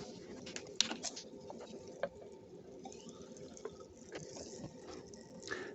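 Carbonated sparkling water trickles and patters as it is poured into a graduated cylinder for a lab measurement, with light drips and small clinks scattered through a quiet, close pour.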